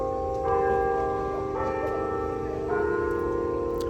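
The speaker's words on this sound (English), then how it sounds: "For whom the bell tolls." A church bell tolls the hour at 9 o'clock, with three resonant strikes about a second apart, each ringing on and overlapping the last, loud against an outdoor market background.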